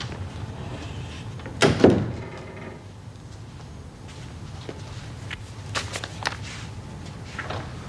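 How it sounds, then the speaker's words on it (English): An indoor door in a prison office swings shut with a single firm thud. Quieter shuffling and light knocks follow in the room. "Shut the door, please, Mrs. Powell."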